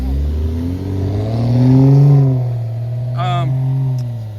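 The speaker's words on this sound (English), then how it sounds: "I'm just running this RC car" An Arrma Big Rock RC car's electric motor revs and accelerates, a loud rising and falling whine that peaks midway, with a brief sharp burst near the end.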